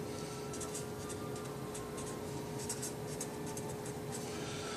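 Pen or marker scratching across paper in short bursts of strokes, moderately close, over a steady background hum, while plans for extra warehouses are being drawn up.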